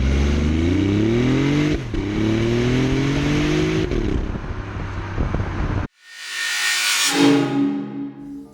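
A three-cylinder 1.5-litre turbocharged engine in a 2017 BMW revs up repeatedly close by, rising in pitch through the gears, then a loud whoosh follows.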